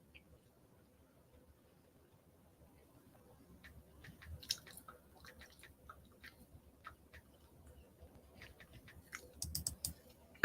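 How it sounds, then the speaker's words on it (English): Faint, irregular clicking from someone typing on a phone during screen recording, light taps scattered through a quiet background that grow busier toward the end. "That clicking that y'all hear is this broad typing while she's screen recording."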